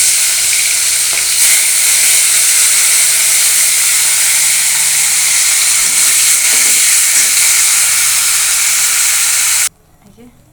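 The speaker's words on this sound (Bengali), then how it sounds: "তাহলে ইলিশ মাছগুলোকে ভেজে নিই।" Pieces of hilsa fish fry in hot oil in a home kitchen, giving a loud, continuous sizzling hiss that cuts off abruptly near the end, leaving faint room sound.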